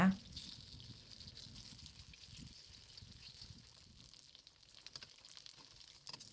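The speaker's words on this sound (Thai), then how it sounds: "ทอดให้เหลืองกรอบทั้งสองด้านเลยค่ะ" Papaya-filled dough snacks frying in oil, a soft, steady sizzle and bubbling that stays quiet throughout, with light crackles.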